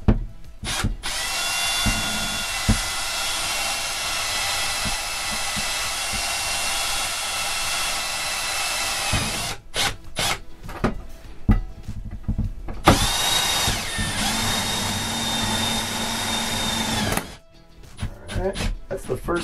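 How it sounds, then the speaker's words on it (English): A power drill bores a hole through the aluminum roof of an Airstream trailer, whining in two long, steady high-pitched runs separated by short stops and brief bursts, with someone talking in between. "so let's drill this hole."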